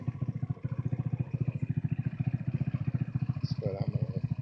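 A Hammerhead engine, newly warmed up after a restoration, idles with a steady, close pulsing thrum and an even rhythm. A voice can be heard faintly over it near the end.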